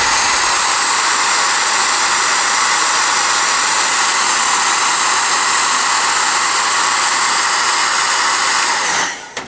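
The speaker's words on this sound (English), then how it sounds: "as I was forcing this one before I start the hairdryer" Hair dryer blowing hard and close on Astral Granite texture paint coating a miniature's base, a loud continuous roar with faint whining tones that holds steady, then cuts off abruptly at the end.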